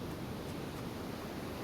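Wind gusting high above in the Hades video game, a steady, soft broadband rush with no voices, heard faintly throughout.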